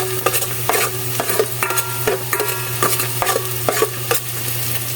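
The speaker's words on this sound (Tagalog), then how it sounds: "Igisa ang bawang at sibuyas sa mantika." Garlic and onion sauté in hot oil in a pan, a steady close sizzle broken by repeated sharp scrapes and clinks of a utensil stirring against the metal, with no talk.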